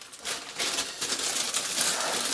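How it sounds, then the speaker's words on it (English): Close, crinkly rustling of a plastic bag being handled, continuous and fairly loud after a brief quieter start. "Apparently people with headphones don't like bag rustling noises."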